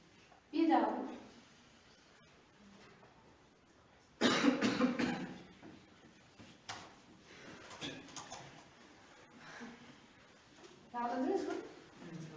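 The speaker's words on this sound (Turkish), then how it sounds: "Öksürürken de 3 defa öksüreceksiniz." Students in a school coughing exercise give short bursts of coughing, quiet and spaced apart among pauses and soft breathing in a room.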